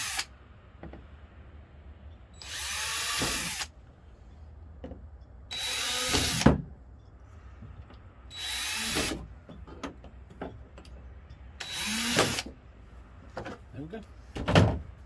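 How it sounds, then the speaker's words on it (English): A power drill with a small bit whirs in four short bursts drilling pilot holes in a kayak for a hatch, separated by pauses, with light handling clatter and rustling between each burst, close by. "So take a drill, the small little bitty drill bit,"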